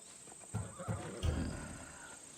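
A horse from Thessalonia neighs in Assassin's Creed Odyssey, a couple of soft whinnying bursts over a steady game ambience hum, with no talk.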